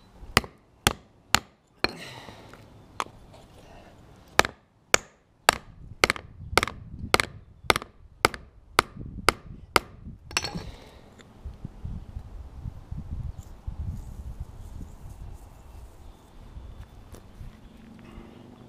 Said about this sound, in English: take a hockey puck. Step two, hit it with a fucking hammer.